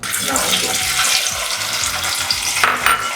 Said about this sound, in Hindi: जब हमारा तेल दोबारा से गर्म हो गया है, अब हम इसमें डाल देंगे अपनी सब्जियां, यानी कि आलू